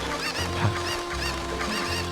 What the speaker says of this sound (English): If you attack a cuckoo while on Epona, it goes through that thing where all these cuckoos come try to attack you